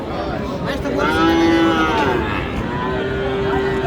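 Friesian heifer cattle mooing at Aftabganj cattle market in Dinajpur, a long low moo carrying over steady crowd noise.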